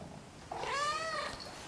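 A small kitten gives a single drawn-out meow, close and clear, rising then falling over about a second with no talking.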